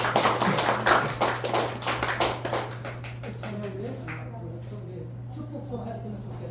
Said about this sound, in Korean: 우리 사랑과 정의의 박수를